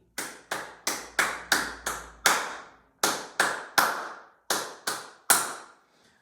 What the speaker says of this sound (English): So I could clap the rhythm of the main melody.